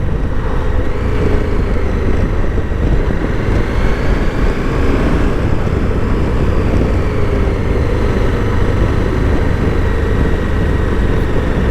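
A KTM Super Adventure R motorcycle rides steadily with continuous loud wind buffeting and engine drone, a dense unbroken rush of noise throughout.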